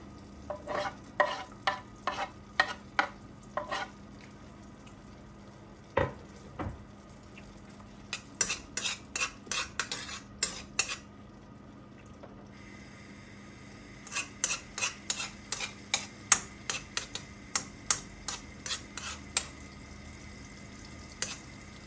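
Garlic being sautéed in a pan and stirred with a utensil, giving bursts of quick scraping clicks with pauses between them over a faint background, without any talk.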